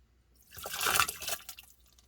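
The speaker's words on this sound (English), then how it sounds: "So this is where we pour the bleach." Bleach is poured into a water softener's pipes, a brief close-up gurgle and splash of liquid that swells and fades over about a second, with no talking.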